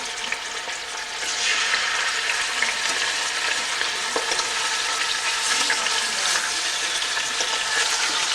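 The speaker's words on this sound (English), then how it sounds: "We'll cook this just to sear the outside of it first" Meat searing and browning in a hot pan before tomatoes go in for a homemade tomato sauce, a steady loud sizzle that swells after the first second and crackles on with no talk.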